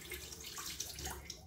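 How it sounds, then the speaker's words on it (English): Cold water running from a bathroom tap into a sink while a face is rinsed, a quiet steady splashing close by with small irregular splashes. "Rinsing my face with cold water actually."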